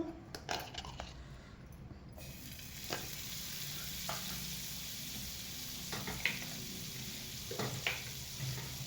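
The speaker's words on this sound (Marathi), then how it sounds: "इथं पॅन गरम आहे आपण आता ना त्याच्यामध्ये बटर टाकूया थोडस" Butter sizzles in a hot pan as a Maharashtrian kelvan thali is prepared. The hiss stays soft and steady, broken by several light metallic taps and clinks of a utensil against the pan. No voices are heard.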